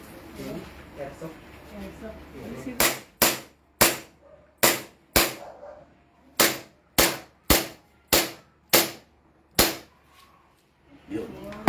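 A toy pistol fires a rapid series of about a dozen sharp, loud cracks at irregular intervals, with murmured background talk before the shots begin.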